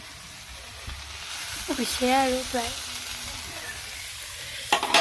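Ridge gourd frying in oil in a pan while being stirred, a steady sizzle with scraping stir strokes, close by, under a woman's brief speech.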